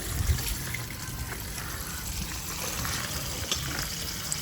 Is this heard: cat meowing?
no